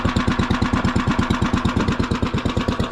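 A golf cart engine with its muffler removed chugs loudly and close in a fast, even stream of sharp exhaust pulses, with no one talking.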